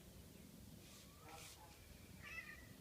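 A cat meows faintly in a quiet room, with a single drawn-out call near the end and a few softer sounds before it, against low background noise.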